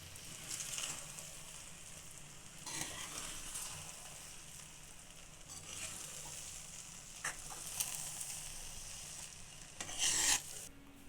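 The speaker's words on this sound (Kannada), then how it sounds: "ಕೊನೆಯದಾಗಿ ಕೊತ್ತಂಬರಿ ಹಾಕಿ ಒಂದೊಳ್ಳೆ ಮಿಕ್ಸ್ ಕೊಡಿ" Shavige upma with coriander is stirred in a hot pan, repeated scraping strokes of a spoon over a soft, continuous frying sizzle, close and fairly quiet.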